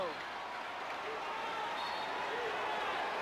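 A large indoor crowd at a professional basketball game between the Manila Metrostars and Cebu Gems roars and cheers continuously, a broad sustained wash of noise with faint squeaks beneath.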